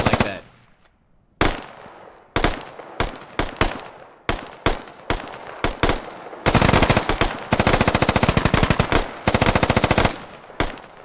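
Gunfire in the military shooter game Squad: sharp single shots and short bursts, then sustained rapid automatic fire with close, loud cracks and brief gaps between volleys.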